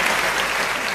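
Applause from a kavi sammelan audience at a Hindi poetry recital, a dense steady wash of clapping filling the whole second, close and loud with no voices over it.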